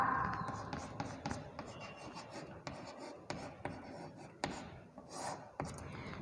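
A pen scratches on paper while a Hindi word is written by hand, with soft rubbing strokes and small taps in an irregular rhythm, close and fairly quiet.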